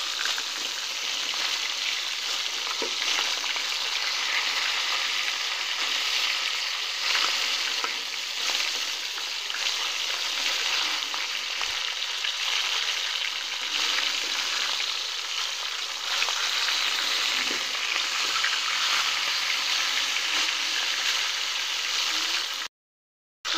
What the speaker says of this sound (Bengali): এই যে আমার মাছটা ভাজা হয়ে গেছে, এখন আমি উল্টিয়ে নিয়ে আর একটা ভেজে নেব